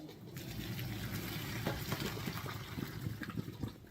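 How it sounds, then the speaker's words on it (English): Water from a pot of boiled potatoes pours off through a drain into a sink, a continuous rushing, splashing flow with small gurgles and clatters, close and fairly loud. "So I let all the water off."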